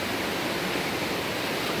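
A river swollen by heavy rain rushes past in a steady, loud, broadband roar of floodwater, with no pauses and no voices.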